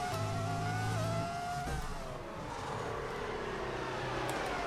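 A Formula 1 car sliding and drifting in F1 2003, its high engine note wavering and dropping as it slides, then steadying into a rising, sustained whine under faint tire scrub.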